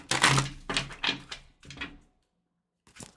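Tarot cards are shuffled in quick papery bursts, four rapid riffling swishes close up, then a short silence and another brief flutter.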